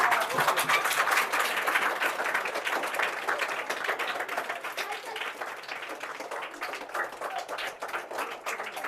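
Applause from a classroom audience at a quiz-style school game, steady clapping that fades gradually across the whole stretch, with no talk over it.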